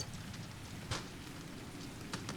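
Rain falling on a stormy mountain night, a soft continuous patter with a couple of brief louder drips or gusts, heard faintly and alone without any voices.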